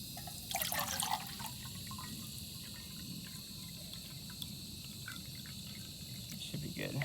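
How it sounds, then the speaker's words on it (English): Water is poured into a metal canteen cup outdoors, a splashing, trickling pour that starts abruptly and runs steadily at close range, with insects or crickets chirping faintly in the background. "pour the water in here just so it doesn't burn the pan"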